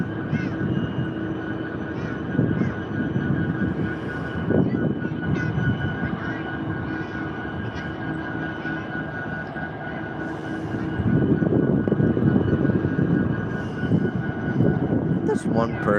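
Diesel locomotive engine at a rail yard in Stevens Point, Wisconsin, a steady low drone that swells louder as it spools up near the end, with voices talking faintly over it.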